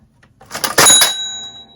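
A vintage toy cash register is worked by hand: a few quick mechanical clacks build into a sharp ringing bell chime that decays away, close and fairly loud.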